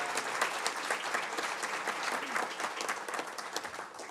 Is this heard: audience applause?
yes